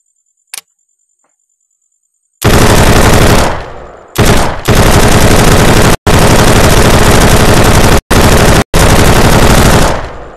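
Rapid automatic gunfire in the VR shooter game Gunz VR, loud sustained bursts broken by brief pauses, preceded by a lone click and a short single shot.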